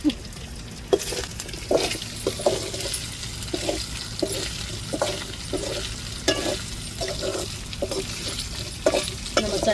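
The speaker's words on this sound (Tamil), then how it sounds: "சட்டியில் கருவாடை பொரிக்கும் போதே அந்த வாசம் கருவாட்டோட மனம் வருதுங்க" Steady frying sizzle of dried fish in a pan with intermittent stirring scrapes and light clinks, continuous and close, no talking.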